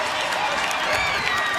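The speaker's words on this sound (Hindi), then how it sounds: "ताली से स्वागत एक बार फिर से आप सभी करेंगे" An audience at a nursing students' award ceremony breaks into dense, sustained applause, many hands clapping together in a loud, continuous wash that fills the whole moment.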